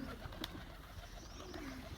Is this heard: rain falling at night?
no